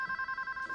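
A telephone rings in a quiet indoor scene, a short burst of steady electronic warbling tones, fairly faint and heard alone.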